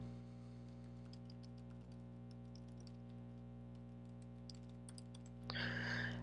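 Steady keyboard typing in a Microsoft Word document, a quiet run of soft, irregular key clicks over a constant electrical hum, with a brighter burst of clatter near the end.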